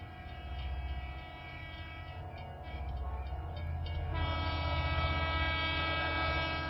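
An intercity train passes with a loud, continuous low rumble and a sustained horn-like tone that swells and holds, with no voices present.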